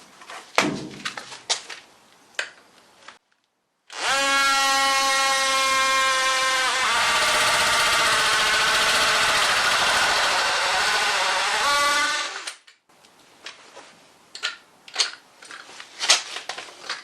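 Drill cutting circular discs from sheet metal for a classic Mini floor repair, a loud sustained whining grind lasting about eight seconds, preceded and followed by clanks, taps and handling knocks.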